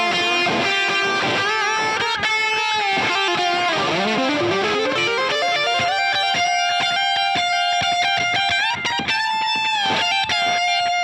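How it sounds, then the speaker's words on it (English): Electric guitar played through a fuzz pedal, thick saturated notes and sliding bends ringing out one after another with a buzzy, sustained distorted tone, loud and alone. "think of it as an alternative distortion, even though fuzz and distortion are two separate things"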